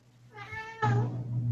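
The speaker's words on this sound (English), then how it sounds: "The elevator meows." A video-game elevator gives out a cat's meow: two clear, close meows in a row, the second louder and longer, with no other sound around them.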